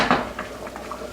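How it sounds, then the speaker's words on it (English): A lid set onto a cooking pot of boiling rice water, a single metallic clank followed by a few lighter clinks, close and clear with no talking. "cover the lid, but don't make it airtight."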